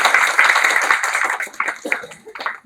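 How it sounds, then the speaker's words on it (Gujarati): A brief burst of audience clapping at a career guidance event, dense at first and then thinning into scattered individual claps as it fades out. "જોરદાર તાળીઓથી તેમનું સ્વાગત છે"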